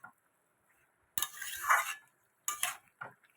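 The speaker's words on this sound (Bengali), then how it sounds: "মূলো পাতা দিয়ে দিচ্ছি। আবার একটু সাঁতলে নেব ঢেকে।" Vegetable curry with radish leaves being stirred and sautéed in a pan, heard as two short bursts of scraping and clinking with a soft sizzle, close and fairly quiet, with near-silence between.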